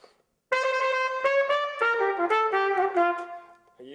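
A trumpet plays an alternate-fingering tremolo, a wavering, warbling sustained tone that shifts pitch in a few steps, loud and close after a brief silence, with no talking.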